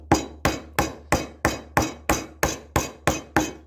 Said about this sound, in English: when you want to chisel this bit out, it's about taking basically a small bit off at a time